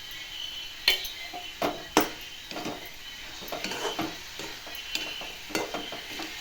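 A spoon scrapes and clinks in a pan of carrot halwa with ghee and cashews, soft irregular stirring strokes over a faint sizzle, close and quiet with no talk.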